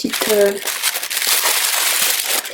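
Tissue paper packaging crinkles and rustles loudly and continuously as a scrapbooking supplies parcel is unwrapped close up, with a brief voice at the start.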